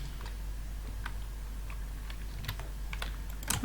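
Soft, irregular keystrokes tap on a computer keyboard close by, spaced clicks over a quiet hum, ending in a louder final press.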